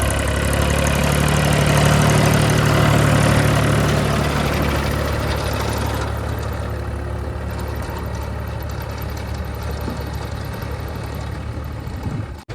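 A tractor engine runs steadily in a farm field, a loud, continuous low rumble that eases slightly partway through and cuts off abruptly at the end.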